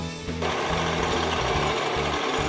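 A countersink bit bores out the screw holes in a chef's knife, starting after a brief quiet moment and then running as a loud, steady grinding whir for the rest of the clip.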